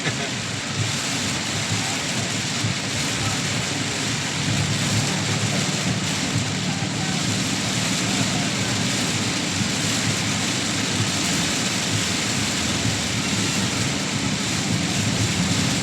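Heavy rain pours down in a dense, steady roar with no break, loud and close throughout, and no voices over it.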